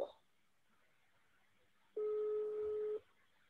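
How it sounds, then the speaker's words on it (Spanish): A phone call being placed on speaker: a single steady ringback-style tone lasts about a second after near silence, clear and moderately loud with no talk over it. "A ver si yo lo llamo aquí y me atiende"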